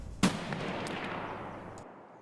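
A single sniper rifle shot fires in Escape From Tarkov: one sharp, loud crack followed by a long, rumbling echo that fades over about two seconds.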